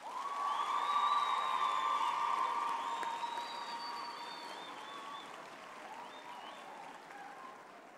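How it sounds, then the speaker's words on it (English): Graduates at a Faculty of Education graduation ceremony clap for their families in a dense, even burst of applause that swells in the first seconds, then slowly tapers off while still continuing. "I would now like to ask our graduates to applaud their families, friends, and spouses for their support over the years."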